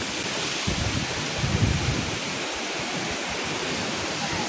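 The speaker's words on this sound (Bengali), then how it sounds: "কাল বৈশাখী গাইস দেখতে পারতেছো হঠাৎ তুফান আইছে।" A sudden Kalbaishakhi storm wind over open rice-growing wetland in Bangladesh roars steadily as a dense, rushing noise, with a stronger low buffeting gust near the start.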